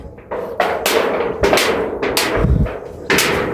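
Nails are pried out and hammered into wood: a loud, close run of irregular knocks, thuds and scraping bangs, several in quick succession, with no talking.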